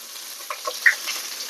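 Garlic, green chili and pepper powder sauté in a hot pan, producing a close, steady sizzle with small stirring knocks and a brief sharp clink, no voices.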